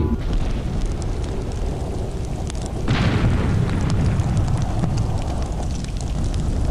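Rocket cannons on an airship in Air Buccaneers, a heavy boom firing and exploding about midway through over a constant rush of wind, with no voices.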